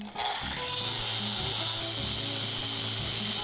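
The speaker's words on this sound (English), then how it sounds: "Take the sander." A power sander whirs continuously against live edge wood, a steady high grinding hiss with a low motor hum, close and fairly loud.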